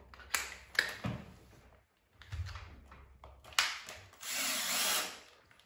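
A power drill drives a screw through a Lego block into a wall plug in short bursts, with clicks and taps between them, ending in a longer whirring run.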